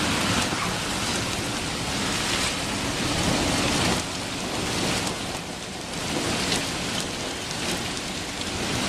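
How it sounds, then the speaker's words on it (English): A loud, unending thunderous rumble during a heavy Chicago storm, a steady broadband roar of downpour and rumbling thunder with no break, fairly distant and sustained throughout. "But it's this unending, loud, thunderous rumble"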